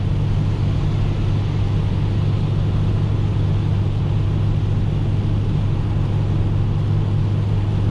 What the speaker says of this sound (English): POV, driving the Cutlass 2 hours away from home.